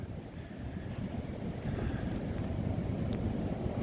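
Blizzard wind during a Kansas City snowstorm roars in a steady low rumble with buffeting gusts against the microphone, moderately loud and continuous, with no voices.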